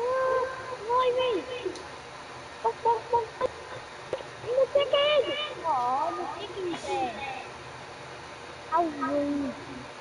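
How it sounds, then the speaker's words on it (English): Clucking chickens in a PS4 video game give a string of warbling, bird-like calls of varying pitch, set over a low background hum with short pauses between them. "Chickens."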